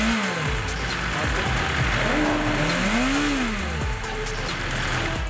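A 2020 BMW S 1000 RR motorcycle engine revs and swoops up and down through the gears, loud and continuous, with the pitch rising and falling in several sweeps.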